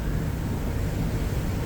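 Strong wind blows across a boat on a calm but gusty sea, a steady, dense roar buffeting close to the microphone for the whole stretch, with no voices.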